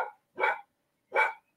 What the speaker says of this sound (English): Sorry if anyone heard a dog barking or distracting.